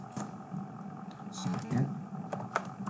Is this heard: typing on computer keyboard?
yes